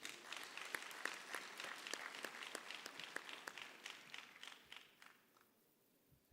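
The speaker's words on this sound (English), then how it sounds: "Give yourself a round of applause." A crowd at a PRASA national rail safety campaign event gives brief, faint applause that thins out and fades after a few seconds.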